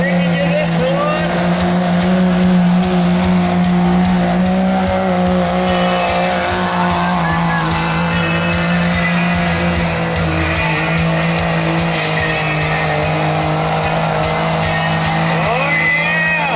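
Diesel pulling truck, Cummins-powered, at a truck and tractor pull, a sustained loud engine roar droning throughout with a steady low hum, while an announcer talks over it.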